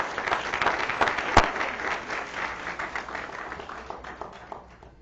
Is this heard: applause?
yes